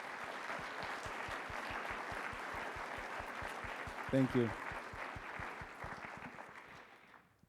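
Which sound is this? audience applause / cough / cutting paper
audience applause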